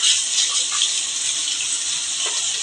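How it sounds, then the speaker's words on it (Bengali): Hot water pours steadily into biuli dal cooking with a shol fish head, a loud, close, continuous bright splashing rush with no pauses. "এখন আমি গরম জল অ্যাড করব ডালটা ঘন হবে"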